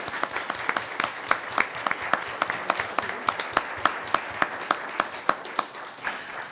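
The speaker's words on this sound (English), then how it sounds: "Please give all of our candidates who participated this evening a round of applause" Audience at a state house and county commissioner election forum claps for the candidates, a moderate crowd applause of dense, sharp hand claps that continues steadily throughout without talk.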